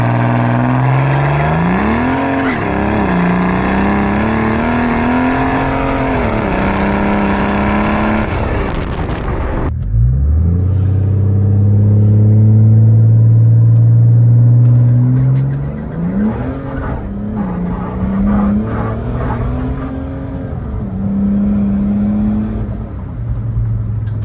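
A high-horsepower turbocharged Mercedes S-Class diesel with an upgraded transmission revs hard and accelerates, pitch climbing through several gear changes with a brief drop between shifts, loud and close throughout.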